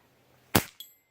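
Air rifle with iron sights firing a 5mm pellet at a target 75 feet away: one sharp, loud crack, then a brief metallic clink a quarter second later as the pellet strikes.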